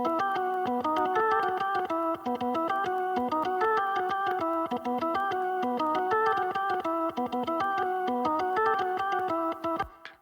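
Organ-style keyboard recorded direct in during a live full-band session, clean with no bleed, playing a steady run of rhythmic chords for about ten seconds. Moderately quiet, with no talking.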